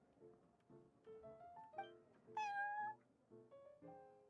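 A cat meows repeatedly in Genshin Impact at the Cat's Tail tavern, a series of short, close, tonal mews with one louder, rising cry in the middle.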